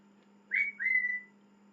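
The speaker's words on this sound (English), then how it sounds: "I have a whistling bird right over there" Two short rising whistled notes from a bird, clear and fairly close, over a steady low hum and otherwise quiet background.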